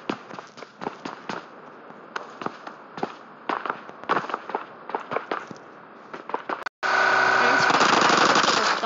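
Rapid bursts of automatic gunfire in the BGMI battle game crackle in irregular clusters at mid distance, then give way to a dense, loud, steady stretch of sound after a brief gap near the end.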